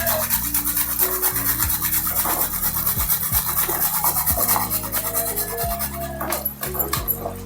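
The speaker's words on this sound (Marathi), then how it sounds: "हे जायफळ हे असं किसून टाकून देते मी" Nutmeg is rasped against a small grater in repeated scraping strokes, close and steady, with an intermittent tonal hum running underneath.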